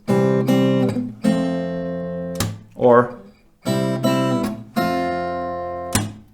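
Plucked acoustic guitar strings ring out in short fingerpicked phrases and sustained chords, separated by pauses, with a brief spoken word in between.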